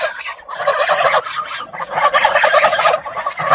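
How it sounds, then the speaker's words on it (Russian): A farm goose honks and gabbles close by in harsh, rapid bursts, a run of loud raspy calls with short breaks between them. "хороший гусь"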